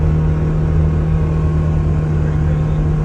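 Car speeding down a half-mile straightaway on a race track, estimated around 140, heard as a loud, steady engine roar with wind rush and a constant droning tone, sustained throughout.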